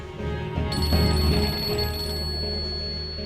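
A telephone rings with a steady electronic tone, fairly loud and close, sustained over a low background murmur.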